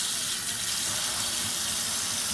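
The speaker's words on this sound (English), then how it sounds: "We're gonna let cold water run for a few minutes." Cold water runs from a kitchen tap into a sink in a steady, hissing gush with no pauses, close and alone.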